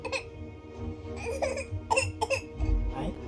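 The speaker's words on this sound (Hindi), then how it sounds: "खांसी भी आ गई, उनके लिए रो रही है वो।" A small child coughs and whimpers in short bursts, close by, with fussy crying sounds between the coughs.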